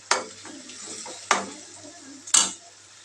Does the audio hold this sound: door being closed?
no